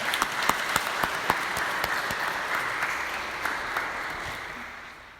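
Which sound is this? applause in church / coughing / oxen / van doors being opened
applause in church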